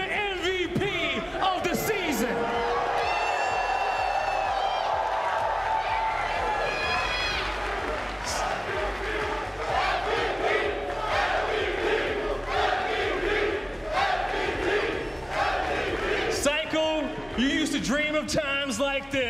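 Crowd at a Halo World Championship esports tournament cheering and yelling for the season MVP, a loud sustained roar with bursts of whoops and shouts, mixed with amplified voices over the din.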